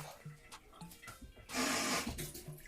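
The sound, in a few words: water being poured in for ginger juice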